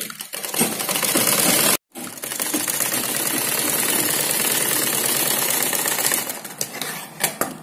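A sewing machine stitches a straight line along a fabric strip for piping, a loud, fast whirring clatter running almost continuously, with one brief pause and a few sharp knocks as it winds down.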